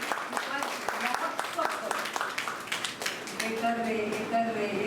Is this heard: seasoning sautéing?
no